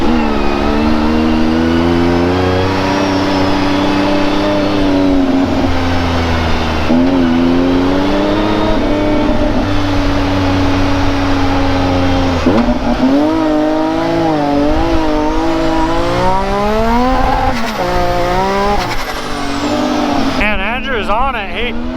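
Group of UTVs on an Idaho dune and trail outing, engines revving and accelerating loudly and continuously up close, with rising and falling pitch as machines pull away and pass.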